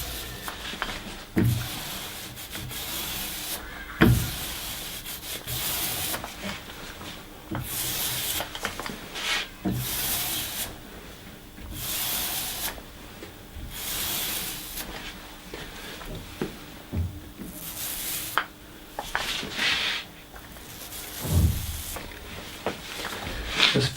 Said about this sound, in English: there's literally no pressure on the roller at all. We're just letting the roller texture apply itself to the paint just to smooth things out.